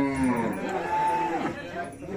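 A cow moos in a rural Shikaripur village setting, a long wavering low call with bending pitch, fairly close and clear, with faint background chatter.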